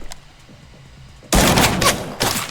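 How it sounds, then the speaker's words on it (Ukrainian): Loud gunfire in the video game Arena Breakout erupts suddenly after a quiet moment: two heavy blasts in quick succession, close and booming. "два постріла"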